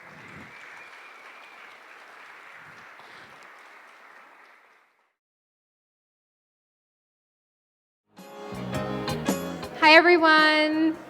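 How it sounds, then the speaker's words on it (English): Wedding guests give the toasters a round of applause, a soft steady clapping for about five seconds, then silence before a louder burst of cheering and clapping returns near the end. "Let's get one more big round of applause, ladies and gentlemen, for all of our toasters"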